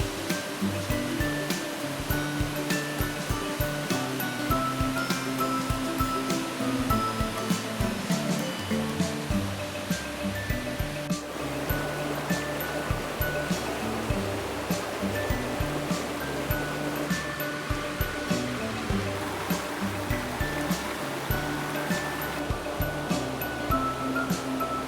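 Gößfall waterfall in the Malta valley rushing over granite, a steady dense roar of falling water that holds constant and loud throughout with no voices.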